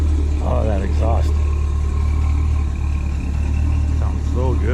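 Exhaust of a 1955 Mercedes 190SL with a Flowmaster muffler and two-in, two-out pipes, a deep, steady low rumble running continuously under a voice.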